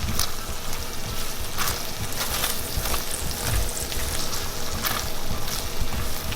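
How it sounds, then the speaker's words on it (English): Butter sizzles and fries steadily in a hot pan, the start of a gravy for homemade poutine, with brief scraping stirs cutting in now and then. The sound is close and continuous, and no one speaks. "I'm going to add some butter first. Give it a little bit of a quick stir."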